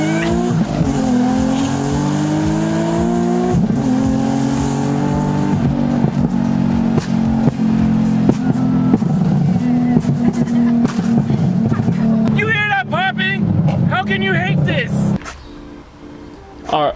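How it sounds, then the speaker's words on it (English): Loud exhaust of a Nissan 370Z rumbling and revving near the microphone, with rising and falling engine tones and sharp bursts toward the end, while people talk over it. "You really don't like the cold starts?"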